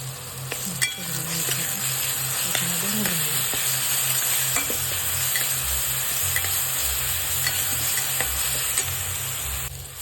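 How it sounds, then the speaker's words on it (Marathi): Green chili and garlic paste fries with onion for a kardi leaf vegetable dish, a constant close sizzle under repeated stirring scrapes and occasional light clinks of a utensil against the pan. "त्याच्यामध्ये आता आपण हिरवी मिरची आणि लसूणचं वाटण केलं ते टाकून देऊ"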